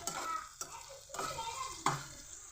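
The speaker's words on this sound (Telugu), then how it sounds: "పోపు సరుకులు వేసానండి బాగా ఫ్రై చేసుకుంటున్నాను" Onions, curry leaves and tempering spices sizzling and frying in a pan, with a spoon scraping and stirring in several distinct strokes.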